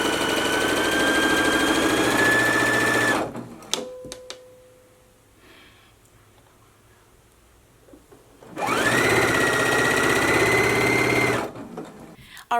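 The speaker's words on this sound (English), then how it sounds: "So let's go ahead and just sew our narrow hem right now along this opening." Sewing machine stitching a narrow hem along the opening of a McCall's 7975 front twist top, in two loud steady bursts of about three seconds each separated by a quiet pause with faint clicks and brief talk.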